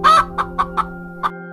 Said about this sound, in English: the hen that lays the golden eggs